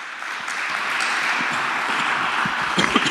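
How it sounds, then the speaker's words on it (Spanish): A church congregation claps together in a loud, steady round of applause, dense and sustained throughout with scattered sharper hand claps near the end. "Dele un fuerte aplauso ahí al Señor"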